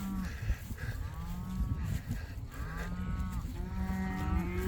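Cows and bull calves moo repeatedly out in a grassy pasture, several overlapping calls of different pitch and length from close and farther off, with outdoor rustling beneath them.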